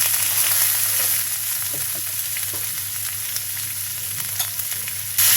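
Beef tripe fries loudly in a pan with turmeric and chili, producing a dense, continuous close sizzle with faint stirring clicks throughout and no speech.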